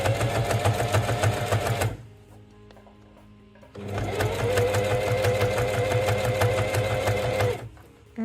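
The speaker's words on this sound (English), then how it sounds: "And continue sewing." A sewing machine stitching fabric for a bow book pocket, running in two loud bursts of rapid, steady stitching separated by a short pause, with faint handling noise in the gap.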